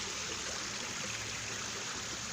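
Water flows in a steady, even rush with no pauses, recorded outdoors on a budget BLU Advance 5.0 HD phone, broadband and moderately loud, with no talk.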